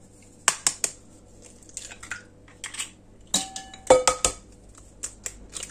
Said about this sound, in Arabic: je vais casser 3 œufs